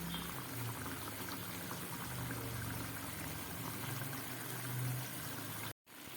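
Curry gravy with potatoes bubbles in a pot, a continuous soft simmering hiss with low gurgles, quiet and uninterrupted, then briefly cutting out near the end.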